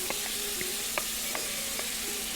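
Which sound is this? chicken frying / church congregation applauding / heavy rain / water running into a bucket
chicken frying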